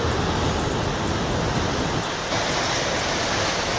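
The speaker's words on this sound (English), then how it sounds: "these colossal waves can bring about some of the most terrifying scenes" Colossal tsunami waves crash and roar in a broad, continuous wash of loud noise, surging with a shift in intensity partway through, no voices present.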